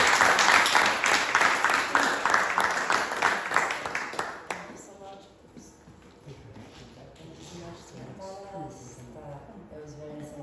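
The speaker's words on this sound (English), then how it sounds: "Can we give them another round of applause?" An audience at a NY Climate Week talk claps loudly for about four seconds, then the applause thins to scattered claps and shuffling while people talk nearby.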